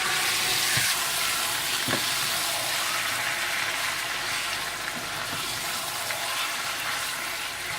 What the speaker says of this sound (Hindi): प्याज गोल्डन ब्राउन होने के बाद आप इसमें पसंदे डाल दें, और अच्छी तरह से मिला लें।